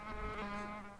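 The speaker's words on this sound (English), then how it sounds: "I don't want to have individual bees having a lot of presence when you're this far zoomed out, but I still want to hear the hive in general" Dense, steady buzzing of a bee hive in the hive-management video game Hive Time, a continuous insect drone with a low hum beneath, even and close throughout.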